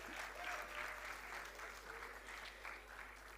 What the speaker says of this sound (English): Please clap for Hardik Arora again.